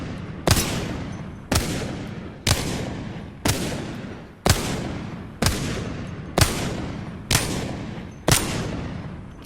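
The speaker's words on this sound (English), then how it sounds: "let's try to get headshots with these 10 rounds." Wingman pistol in Apex Legends fired ten times at a training dummy, each shot a sharp loud crack with a decaying tail, evenly spaced about one second apart, no voices.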